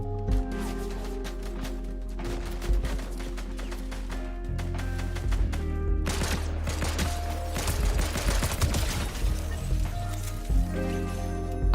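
Pistol shots ring out repeatedly during Fortnite gameplay, mixed into a dense, continuous layer of game sound effects and music with no speech.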